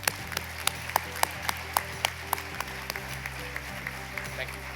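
An audience at a community awards celebration applauds an honoree, steady clapping with a few sharper, louder individual claps standing out near the front, under low background hum.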